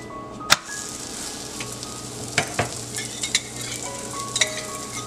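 Holige sweet flatbread frying in a little oil on a hot pan gives a steady, soft sizzle with occasional sharper clicks and pops. It plays alone, with no voices.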